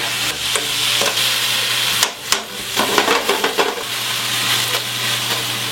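Spinach and other green vegetables sauté in a pan with a steady sizzle, as a utensil stirs and turns them, scraping and knocking against the pan in irregular bursts.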